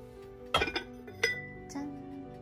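A treasured ceramic bowl clinks as it is handled while preparing a millefeuille hot pot meal kit, several sharp, close taps and rattles in a quiet room.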